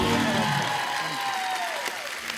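Studio audience applause on a television comedy talk show, greeting a sarod maestro and his two sons as they take the stage; steady, dense clapping fills the short stretch alongside a voice speaking over it.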